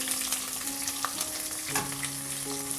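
Whole spices sizzling and crackling in hot ghee, a steady close frying hiss with occasional pops and stirring clinks.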